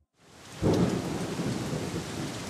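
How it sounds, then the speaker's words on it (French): Steady rain roars after a brief quiet start in a children's cartoon storm scene, with a deep rumble of thunder rolling in and lingering beneath the downpour and strong wind; no voices. "Il y a une tempête et un vent très fort."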